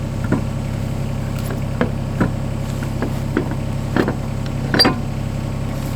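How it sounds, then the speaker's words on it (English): An excavator engine runs at a home renovation site as a steady low drone, with occasional faint clicks and knocks over it and nobody talking. "You hear the excavator going"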